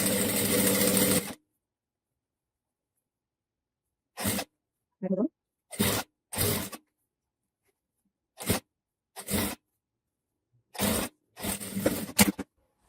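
A sewing machine stitches a dress neckline in short separate bursts, each about half a second long, with silent gaps between them. Each run sounds moderately close. A loud broadband noise at the start gives way to near silence.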